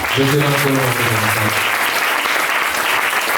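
A church congregation applauds during a service, producing steady, dense clapping that continues throughout, with a voice singing or calling out briefly at the start.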